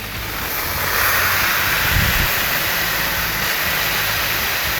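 Smashburger patties pressed down and searing on a Blackstone griddle, a loud, steady broadband hiss and sizzle that holds unbroken throughout, with a brief low thump near the middle.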